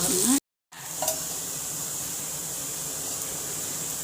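Chickpea adai batter frying in oil on a pan gives a loud, steady close-up sizzle that continues alone, with a brief gap near the start and no talk.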